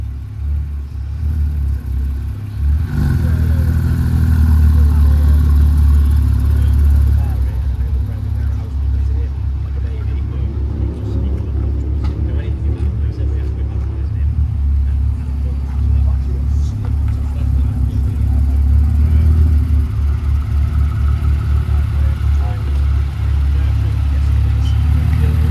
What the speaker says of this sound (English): Looks like it has the full custom Profusion exhaust system on it.